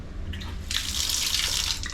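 Water gushing from an outdoor faucet at an apartment in Angeles City, Philippines, a steady bright hiss that starts partway through and continues, close and moderately loud over a low background hum.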